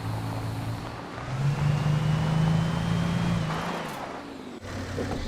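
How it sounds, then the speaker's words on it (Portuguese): A car engine in the Alan Wake video game drones and rises in pitch, surges to a loud steady hum, then falters and dips with a brief dropout before resuming, as if misfiring. "Meu Deus, o carro tá falhando"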